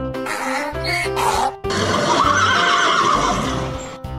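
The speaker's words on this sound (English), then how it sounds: "Horse." A horse lets out a loud, close whinnying neigh, with a few rough snorts at the start and then a long shaky call that trails off.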